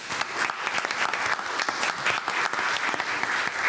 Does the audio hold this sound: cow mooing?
no